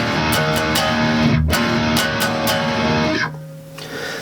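Distorted electric guitar plays an inverted power chord riff, loud and sustained with rhythmic picked accents, ringing chords dropping off near the end to a thinner held tone.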